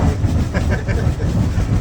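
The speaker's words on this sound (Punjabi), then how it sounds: "ਇਹ ਗੱਡੀ ਕਿੰਦਾ ਧੂਆ ਮਾਰਦੀ" A steam engine at an English fair chugging along up close, a loud, steady rumble with rhythmic pulsing beats and faint clatter throughout.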